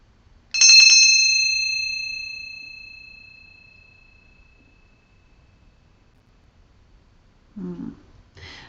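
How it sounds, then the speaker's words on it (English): A single clear bell strike rings out and slowly fades over several seconds into near silence, followed by a brief soft rustle. "I do want to cleanse my space and set intentions to cleanse your space with this bell."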